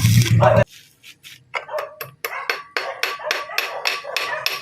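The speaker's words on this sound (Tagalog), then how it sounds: "Dito ay pinupukpok ko habang nagbabaga pa." Repeated sharp metallic strikes in an irregular rhythm, hammering on still-glowing heated metal close by, after a brief burst of talk at the start.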